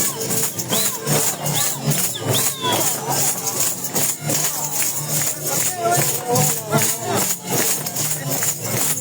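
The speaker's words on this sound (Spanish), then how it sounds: "¡Zapateo, vamos, compas!" Rhythmic zapateo foot-stamping by dancers performing the Abuelitos de Huaribamba dance, steady repeated stomps under loud shouting and a cheering crowd.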